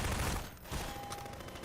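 Submachine gun fire in Half-Life 2: Episode 3, heard as a dense burst of rapid gunfire at the start that thins into a noisy, rattling background of combat.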